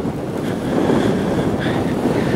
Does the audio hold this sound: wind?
yes